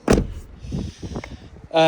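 The diesel filler flap on an Autosleeper Symbol motorhome, behind the passenger door, pops open with a sharp near click, followed by faint rustling handling noises and a louder mechanical whir at the end.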